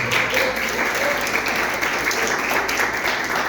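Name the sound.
church congregation applauding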